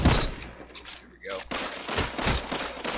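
Rapid bursts of automatic gunfire from a Destiny 2 multiplayer match crackle loudly and continuously, with a brief lull in the middle before the shooting resumes.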